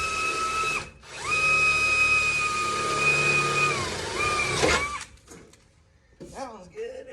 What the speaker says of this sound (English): you can drill right through the hood.